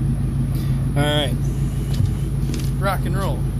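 The V8 engine swapped into a 2001 Ford Mustang runs with a steady, close rumble while it warms up, with a couple of brief rising rev sweeps and little talk.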